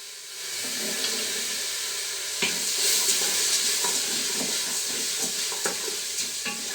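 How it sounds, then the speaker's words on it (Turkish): Green lentils are stirred into tomato paste in a hot pot, giving a soft continuous sizzle and hiss with scattered scraping and clinking strokes of the spoon, fairly close and without talk. "karıştıralım."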